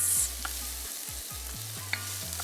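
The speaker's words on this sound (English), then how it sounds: "we're just going to stir this and saute until tender for about 3 minutes" Leeks sauté in a warm pot for a creamy broccoli soup, a soft sizzle with a few light stirring clicks and taps, quiet and close, alongside a low repeating electronic tone.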